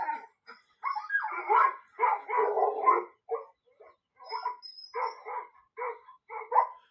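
A dog barks and yips in quick repeated bursts, loud and close, while wolves approach to take the food it is holding; there is no talk.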